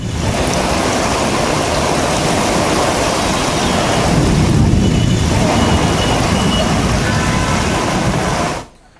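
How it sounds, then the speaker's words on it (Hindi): Floodwater filling an underpass after continuous rain, with a stranded vehicle, as a loud steady rushing and splashing wash of water that continues unbroken, swells slightly midway, then cuts off abruptly at the end. "अंडरपास देखिए पानी से पूरी तरह से लबालब है और गाड़ी फंस गई है"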